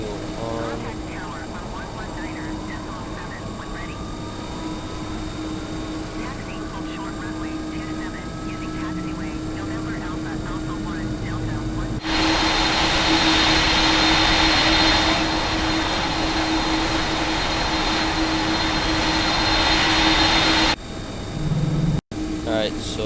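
Engine 2 of an MD-11 airliner spooling up in Microsoft Flight Simulator: a steady engine hum, then a loud broadband jet roar rises sharply and holds before cutting off near the end, with someone talking over the first part.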